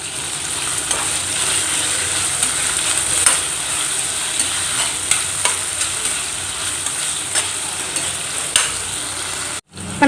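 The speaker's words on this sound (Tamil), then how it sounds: "தக்காளி நல்லா வதங்கட்டும்" Tomatoes sautéing with salt in a pan for a yam fry, a steady close sizzle running throughout with soft scraping stir strokes and a short break near the end.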